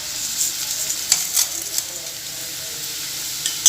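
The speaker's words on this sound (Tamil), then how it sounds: "உப்பு சேர்த்து நல்லா வணக்கிக்கோங்க" Tomatoes and tamarind sautéing with salt in a pan for mint chutney, giving a steady, close, bright sizzle with a few brief stirring scrapes.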